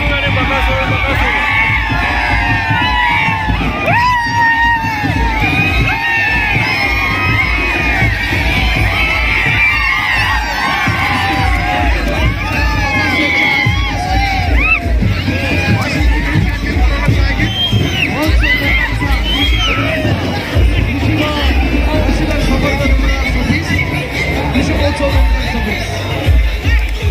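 A dense crowd, mostly young people, gathers in Chipluṇ to see the famous race bull Bakasur, with continuous loud hubbub, shouts and whoops of cheering filling the whole stretch close by.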